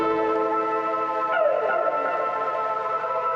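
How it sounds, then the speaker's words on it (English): A music sample pitched down five semitones for a boom bap beat plays as dense sustained tonal layers with a falling pitch sweep midway, steady and full throughout with no talking. "I pitched it down 5 semitones"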